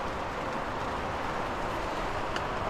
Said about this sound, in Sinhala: සෑහෙන හුලඟක් තියෙනවා. ඉතින් සද්ද වැඩිනේ.